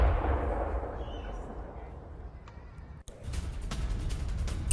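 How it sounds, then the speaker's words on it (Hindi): Missile strikes and interceptions with explosions in Iran-US war news footage: continuous loud rumbling, booming roar, and a sharp break about three seconds in followed by more crackling blasts. "आसमान में दिखी हैं इंटरसेप्टर मिसाइलें और ईरानी मिसाइलों को पैट्रियट ने रोका भी है"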